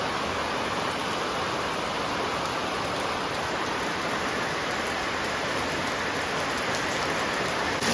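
A sudden heavy rain in a Marathi village pours down in a dense, unbroken hiss, loud and close, with no voices over the steady roar.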